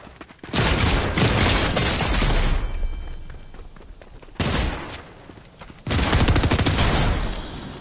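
Gunfire from a weapon in a video game, loud bursts of rapid automatic fire in three stretches with short gaps between them, close and up front with no talk over it.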